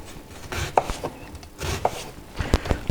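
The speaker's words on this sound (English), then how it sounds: "You want to peel your onion and chop it quite finely." A knife finely chops a peeled onion on a board, giving a quick run of close, crisp taps and thuds in uneven bursts, with soft scraping between strokes.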